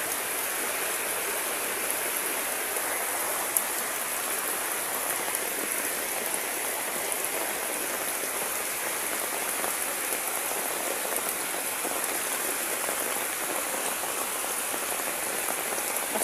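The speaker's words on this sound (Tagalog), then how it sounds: "Baha na naman ngayon, sobrang laki na naman ang tubig." Heavy rain pours steadily while floodwater rushes nearby, a constant hissing patter layered over continuous flowing water with no voices.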